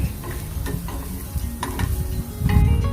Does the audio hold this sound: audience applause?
no